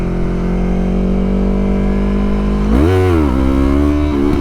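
A Yamaha MT-03 stunt motorcycle holds a steady, loud mid-pitched engine drone, then revs sharply up and back down as it accelerates, all close to the rider with no talk.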